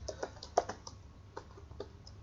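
Code typed into Visual Studio Code on a computer keyboard, soft scattered key taps at an uneven pace, close and fairly quiet with a low steady room hum beneath.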